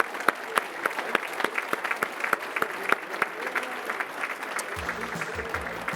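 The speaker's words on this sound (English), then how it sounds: "let's give one more round of applause for our inductees tonight" Audience applause at an Oregon sports hall of fame induction ceremony, a steady round of clapping from many hands with sharper individual claps standing out, moderately loud and sustained throughout.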